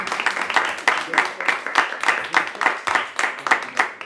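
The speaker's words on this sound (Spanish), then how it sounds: "Y ese aplauso bien bonito" Steady applause from a crowd at a quinceañera with a youth mariachi band, dense and even clapping with a regular pulse, fairly close, continuing for several seconds with voices mixed into it.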